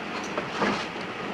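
A passenger train runs steadily on its rails, a continuous mid-level rumble with a faint rhythmic rattle of the carriages throughout.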